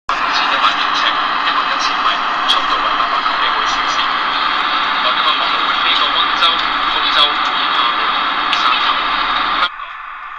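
Inside an airplane cabin, a steady, dense engine roar fills the whole span at constant loudness, with a faint voice underneath. It cuts off abruptly near the end.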